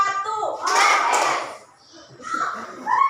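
Children clap their hands in a counting game, short bursts of clapping between their chanted counting voices, close and lively.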